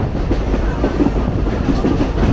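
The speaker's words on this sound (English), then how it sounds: "There's a family up there enjoying watching the trains go by." Lehigh Gorge Scenic Railway train rolling near Nesquehoning, heard from on board: a steady, close rumble and rhythmic clatter of wheels on track, continuous and fairly loud, with no talking.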